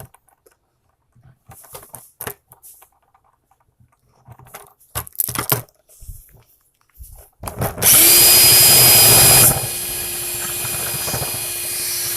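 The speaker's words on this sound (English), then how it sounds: "why do you keep, just drilling out a little bit, drilling out a little bit?" A power drill boring out a hole in a bucket for chicken waterer nipples whines loudly and steadily for a couple of seconds, then keeps running at a lower pitch, after scattered knocks and handling noises.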